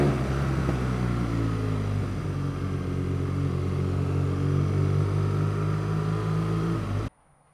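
A motorcycle engine gives a rough, meaty rumble, steady and close for about seven seconds with strong low harmonics, then cuts off abruptly.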